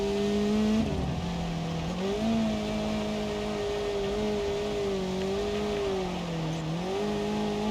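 Car engine in BeamNG.Drive revving hard and shifting pitch while sliding through corners on a Bajarama course, a steady loud drone with rising and falling revs and some tire noise, no talking.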